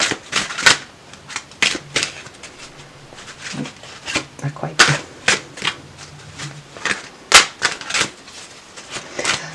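Tarot cards are shuffled in a series of quick riffling bursts close up, with a brief spoken remark partway through.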